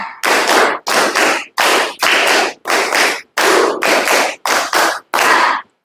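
A classroom of students performs a rhythmic spirit clap in sharp, loud bursts of clapping separated by brief pauses, with groups of quick claps repeating in a set pattern.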